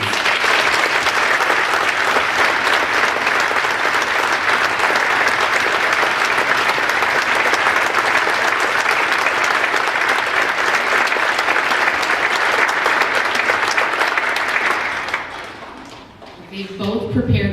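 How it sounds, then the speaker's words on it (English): A school auditorium audience gives sustained, loud, dense applause for about fifteen seconds before it dies down and a voice begins speaking. "Please help me give one more applause to these two fabulous ladies."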